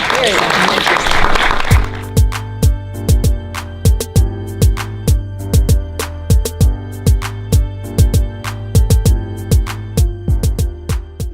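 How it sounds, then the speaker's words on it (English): Audience applause for Michelle Moore at a film festival gives a short burst of clapping that quickly cuts to loud, punchy rhythmic music with a steady beat. "Please give a round of applause for Miss Michelle Moore."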